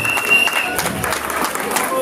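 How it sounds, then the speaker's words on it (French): Guests at a 30th wedding anniversary celebration in Liège applaud, a brief continuous wash of clapping with voices mixed in. "applaudissons-le encore une fois"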